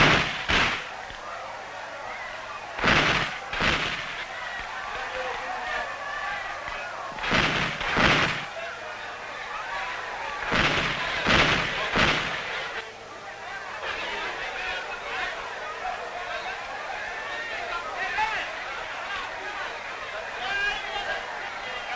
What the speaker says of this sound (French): avec les vieux fusils à pierre des guerres d'autrefois, et leur fusillade salue chaque jour le départ de leur chef